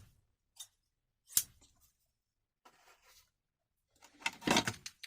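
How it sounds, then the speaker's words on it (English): A vintage pair of scissors is handled close up, giving sparse metallic clicks and snips, a sharp click early on and a busier cluster of scraping blade sounds near the end, in an otherwise quiet room. "Pair of scissors."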